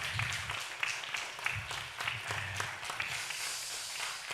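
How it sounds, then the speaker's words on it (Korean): Church congregation at a Korean Sunday service clapping in praise to God, a lively crowd of clapping with some sharper individual claps poking through, steady for several seconds at moderate volume without speech. "한번 하나님께 영광의 박수 올려드리겠습니다."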